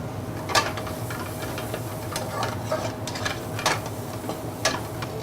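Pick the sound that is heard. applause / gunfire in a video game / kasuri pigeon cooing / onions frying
onions frying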